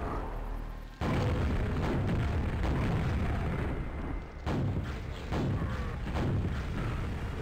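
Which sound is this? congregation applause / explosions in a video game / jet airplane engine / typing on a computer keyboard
explosions in a video game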